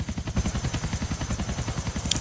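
Helicopter in GTA 4 on PS3 during a snowstorm: a steady, fast rotor chop with rhythmic low thumping beats throughout, loud and close, with a brief sharp burst near the end.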